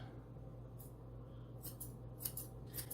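Several quick metallic scissor snips through a Standard Poodle puppy's hair in close succession, crisp and near, over a steady low hum, with no talking.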